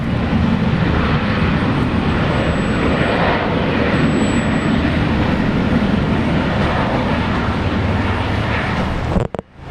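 An airliner at Brisbane International Airport roars loud and steady with broad, rumbling jet noise that holds for nearly ten seconds before a brief clatter at the end.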